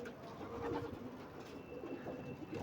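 Pigeons cooing in a loft, soft low repeated coos over a faint background murmur, close and fairly quiet, no talk.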